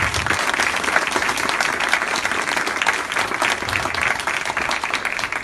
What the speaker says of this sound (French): vous pouvez les applaudir parce que c'est des gens qui travaillent